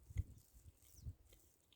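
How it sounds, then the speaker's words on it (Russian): Close, quiet munching with a few soft bites and squishy chews spaced across the moment, low and wet against faint background hiss, outdoors on a pasture in May. "Хотя за моим чавканием, наверное, ничего не слышно."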